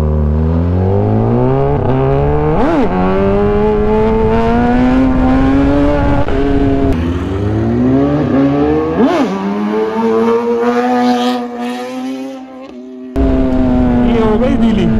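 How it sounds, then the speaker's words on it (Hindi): Motorcycle engine revved hard for a clutch-pop wheelie, rising and falling in repeated loud throttle sweeps, with a sharp blip around three seconds and again near nine, then a brief cut and the engine returning. "थ्रॉटल दिया और ये करना है क्लच पॉप।"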